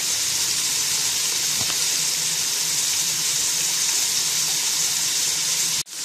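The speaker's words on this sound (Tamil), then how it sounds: "வெங்காயத்தை போட்டு நம்ம நல்லா வதக்கிக்கலாம். பச்சை மிளகாய், கருவேப்பிலை இது எல்லாத்தையும் இப்போ வந்து போட்டுக்கலாம்." Onions, green chili and curry leaves sizzle in hot oil in a pan for fish curry, a steady close frying hiss that runs unbroken before cutting off abruptly.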